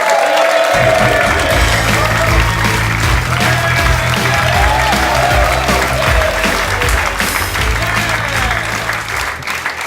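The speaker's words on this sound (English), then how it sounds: "You're right to clap. You are right to clap." A large comedy club audience claps loudly and continuously, with scattered cheers and whoops mixed into the dense applause.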